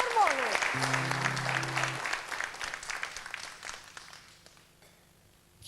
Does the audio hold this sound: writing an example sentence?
no